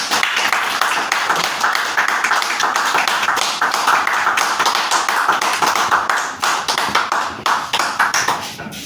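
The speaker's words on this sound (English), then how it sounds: "let's give him a big round of applause" A church congregation in Manchester applauding steadily, dense clapping that thins into scattered claps near the end.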